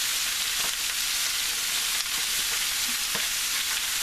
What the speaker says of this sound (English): And then we're gonna add our bok choy.